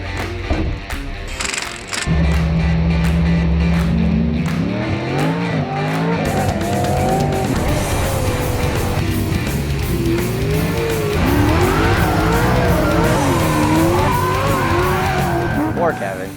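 A race car drifts through slow figure eights on a track, tires squealing in rising and falling wails over a loud revving engine, with people talking at times.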